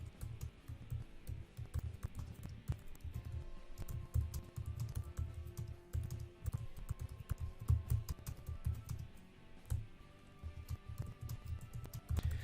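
Steady typing on a computer keyboard while entering text in Adobe XD, a close run of quick clicky keystrokes with uneven rhythm and occasional heavier key presses, no one talking.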